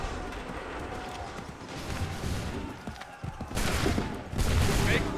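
Musket volley firing in Assassin's Creed 3, a dense crackle of many shots layered over battle noise, growing louder toward the end.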